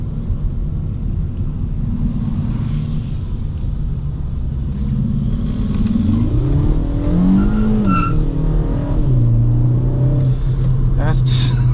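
Kia Forte GT spinning its wheels on launch, with a loud engine roar that rises and swoops in pitch over several seconds, tire noise underneath, sustained and close.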